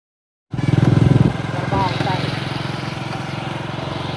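A motorcycle engine starts up close by and runs loudly, with a throbbing idle that surges briefly, then settles into a steady chug while a person talks over it.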